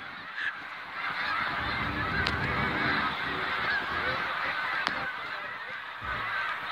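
Canada geese honking from a resident flock outdoors, a dense, continuous chorus of overlapping calls at steady loudness, with a few sharper honks standing out near the listener.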